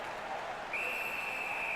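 A referee's whistle in the hockey video game NHL 19, a single sustained shrill blast beginning partway through and holding steady over faint arena crowd noise.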